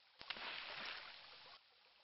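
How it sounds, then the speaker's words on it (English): A brief wash of flowing water from a calm lake fed by a nearby waterfall in King's Quest I, a soft, steady rush lasting just over a second and then cutting off. "This is a peaceful little lake, fed by a nearby waterfall."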